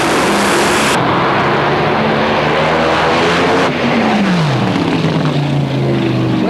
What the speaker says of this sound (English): driving the Valvolaine's Cummins Top Fuel Dragster